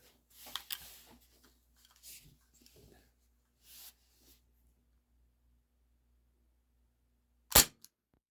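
Beretta APX 4.5mm CO2 BB pistol with strong blowback fires lead BBs: one sharp, loud crack near the end, after some soft handling clicks and rustles.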